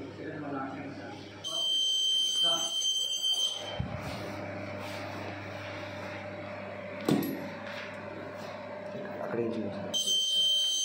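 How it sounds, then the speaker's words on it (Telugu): An emergency buzzer on a circuit breaker project goes off when the breaker is forced open by an unauthorized person, sounding as a steady high-pitched electronic tone in a few bursts, with a person speaking underneath. "మనకి బజర్ అనేది కూడా ఎమర్జెన్సీ బజర్ అనేది కూడా సౌండ్ వస్తుంది"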